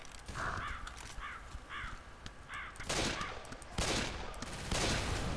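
Video game gunshots fired in a haunted forest setting, a rapid series of sharp cracks mixed with repeated crow-like caws, growing louder toward the end.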